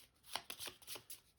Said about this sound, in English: I got to shuffle this discard deck